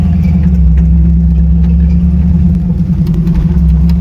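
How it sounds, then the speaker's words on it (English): A car engine runs loud and close with a deep, steady drone. The throttle changes slightly, but there is no sharp rev rise. "Car sounded so happy"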